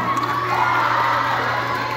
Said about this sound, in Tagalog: Wala po ba hiyawan dyan?